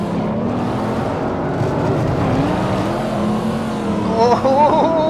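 Corvette Stingray engine in Assetto Corsa on the Lake Louise road: a steady, loud cruising engine hum with slight pitch changes, then a brief higher whine and wavering tones near the end.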